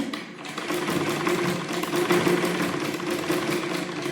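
A sewing machine stitches fabric, a fast steady mechanical whir with rapid rhythmic needle pulses, close and loud, with no voices over it.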